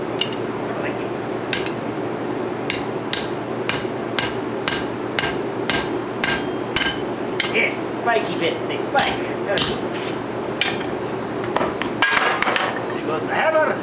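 Repeated sharp metallic hammer blows on hot metal during forging ring out in a steady rhythm, loud and close, with a person talking briefly near the start.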